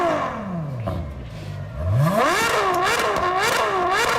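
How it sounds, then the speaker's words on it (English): A car engine revs hard, its pitch sweeping down, then climbing steeply and wavering through repeated blips, loud and close with no talk over it. "We need to hear the engine."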